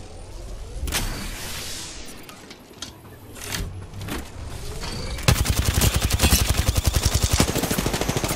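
Gunfire in Apex Legends: scattered shots and clatter, then a sustained rapid automatic burst of evenly spaced loud rounds in the second half.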